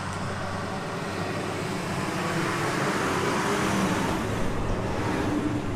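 A UPS delivery truck drives past, a steady loud roadway rumble of engine and tires that swells slightly toward the middle and end, with no talk over it.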